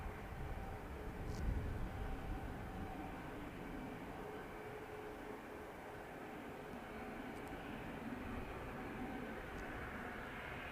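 An airplane arriving at Manchester Airport, heard as a distant, steady broadband engine roar that swells slightly early on and holds at a low, even level for about ten seconds, with no talking.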